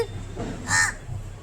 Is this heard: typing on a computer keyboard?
no